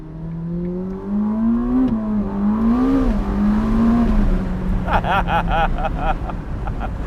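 A 2022 Ferrari SF90 Spider hybrid supercar pulls hard, its loud engine note rising and dipping steadily through the run, with wind buffeting the microphone and a brief rattling burst near the end.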